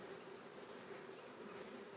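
A colony of honey bees in the bottom box of an open hive, a defensive, aggressive lot, gives off a steady, dense drone close by that never lets up.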